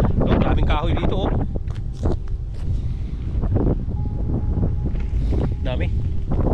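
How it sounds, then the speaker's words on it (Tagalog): Strong wind buffets the microphone in a steady roar, with a person talking over it. "Grabe lakas ng hangin."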